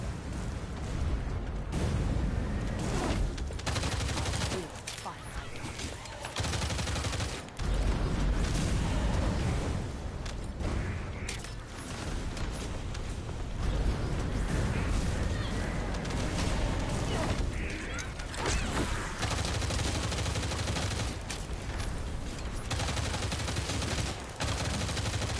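Sustained bursts of gunfire and rapid automatic shooting in the sci-fi shooter The First Descendant, loud and near, mixed with explosions and game effects, with occasional speech underneath.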